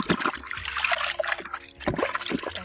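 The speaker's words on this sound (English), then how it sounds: "So I'm going to add a detergent, and I'm using Oxy, and this is stain lifter." Oxy stain lifter detergent is poured into a basin of water for hand-washing bed sheets, a close, steady trickling and splashing with a short dip partway through.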